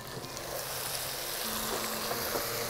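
Green and dried chilies sizzle in oil with biryani spice mix for a jackfruit biryani, a steady close frying hiss with faint scraping from stirring.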